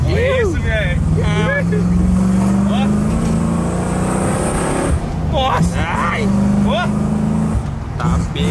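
A Ford Maverick's engine runs steadily at close range with a continuous low rumble, while excited voices talk over it throughout.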